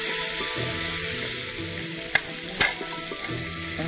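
Curry leaves and dried red chilies crackle loudly in a hot tempering while being stirred, with a continuous close sizzle broken by two sharp clinks of the spoon against the pan; no voices.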